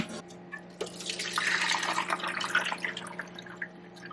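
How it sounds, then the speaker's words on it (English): Meat drippings are poured from a roasting pan into a gravy strainer, a close splashing, trickling liquid sound with a few drips, fairly quiet over a low steady kitchen hum. "now I'm just going to drain everything into my gravy strainer here"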